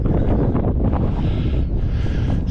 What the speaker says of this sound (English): it's quite breezy and windy up here